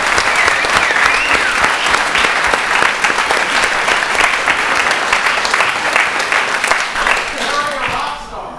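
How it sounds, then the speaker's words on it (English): Loud, sustained audience applause at a town proclamation ceremony, dense clapping from a large crowd that carries on evenly before tapering off at the end, with scattered voices underneath. "So can I just have one more round of applause for our rock, Harry."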